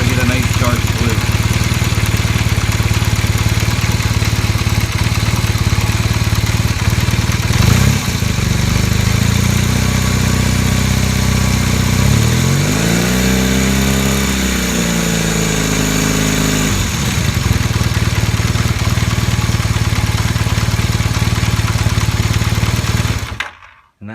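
A 1978 Honda CB400 cafe racer idles after a carburetor mixture adjustment, a steady, loud close-up engine thrum with one brief rise and fall in revs midway before the engine cuts off at the end.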